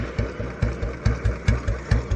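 An old Royal Enfield Bullet motorcycle idles loudly nearby, its single-cylinder engine thumping in a steady, slightly uneven rhythm of about four beats per second.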